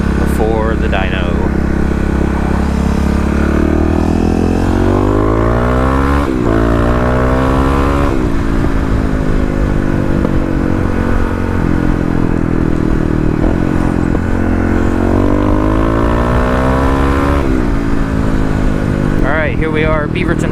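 A 2018 Kawasaki KLX351 EFI motorcycle heard close up on a ride, its engine note rising and falling steadily through repeated revs and gear changes, with constant wind rush throughout.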